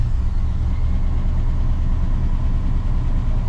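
A 1989 Chevy K3500 pickup's 454 big block V8 idles steadily at close range, a continuous low rumble with an even, unbroken throb and no speech.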